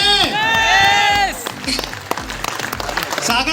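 Crowd applause and cheering at a live motivational event in Kolkata, with loud, close clapping and shouts swelling under amplified music and a voice calling out over the hall.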